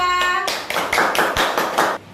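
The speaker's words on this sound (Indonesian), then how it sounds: "tepuk tangan untuk kelompok 2" A classroom group claps together for a presenting student group, with about seven sharp, evenly spaced rhythmic bursts following a brief voiced tone at the start.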